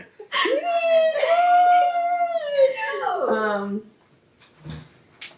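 A voice imitates a dog's long, wavering howl that rises, holds for about three seconds and falls away, followed by a faint brief vocal sound.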